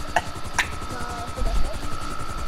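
Steady rotor drone of a helicopter in Grand Theft Auto V fills the whole stretch, close and even, with a couple of short sharp clicks and a brief low thump partway through.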